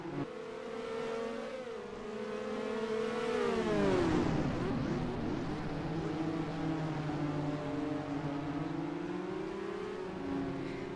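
Race car engines in NASCAR Racing 2003 during a Formula 1 race at Australia, several engines roaring together and swelling as they pass close by, pitch rising and falling, loud and continuous with no voice.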